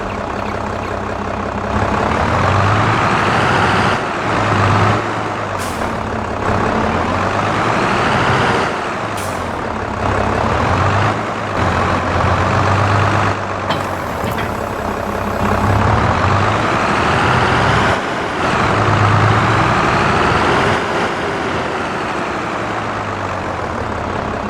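Tractor engine in Farming Simulator 22 droning loud and steady with a low rumbling hum, swelling and easing slightly as it runs, with a few brief hissing bursts and no talking.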